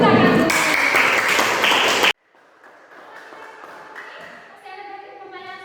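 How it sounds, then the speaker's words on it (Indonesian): Classroom applause from students, a brief burst of group clapping that cuts off abruptly, followed by quieter room sounds, light tapping and faint voices. "Oke, beri tepuk tangan."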